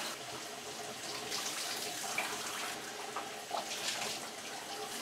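Shower water running steadily while rinsing off, a soft continuous hiss and splatter at moderate distance.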